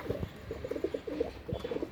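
Tiger line racing pigeons coo close by, soft throaty rolling calls in short repeated bursts, with a few faint rustles between them.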